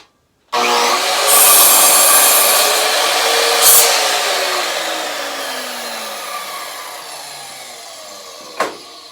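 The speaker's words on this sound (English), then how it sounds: "I won't move you over here again for the saw because you'll be able to hear it." Steady back-and-forth rasp of a hand saw cutting through wood, close and continuous, gradually easing off before a final sharp knock.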